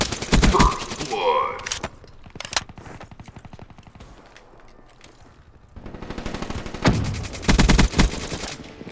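Bursts of rapid automatic gunfire from the video game Black Ops 3 come in loud, close clusters at the start and again near the end, with quieter game noise and a brief spoken word between the bursts.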